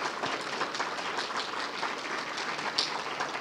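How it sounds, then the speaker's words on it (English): An audience at a free speech panel discussion gives a round of applause, a moderate, steady patter of clapping heard from a distance for a few seconds. "I would like to ask for a round of applause and thanks for our panel."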